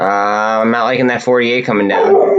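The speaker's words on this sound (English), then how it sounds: "Sorry about the dogs." Dogs barking, yipping and whimpering indoors, clear and loud, heard under someone speaking throughout.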